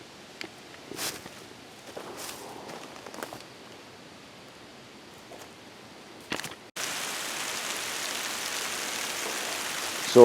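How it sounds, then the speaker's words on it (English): Faint scattered taps and rustles, then a sudden steady hiss of rain that continues to the end, on a trail in Naugatuck State Forest. "So it's starting to rain here"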